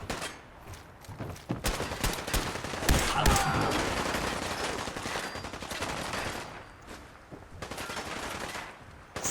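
Video game gunfire aimed at the player: dense bursts of rapid shots and machine-gun fire rattle on and off throughout, loud and close, with brief pauses between volleys.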